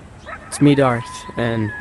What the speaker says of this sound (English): oh, that was my dog.